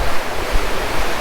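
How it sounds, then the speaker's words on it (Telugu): Water rushing near rocks at Tirumala: a loud, close, noisy wash with gusty swells and dips over a brief stretch. "మీకైతే వాటర్ నాయిస్ అయితే వస్తుండొచ్చు మేబీ"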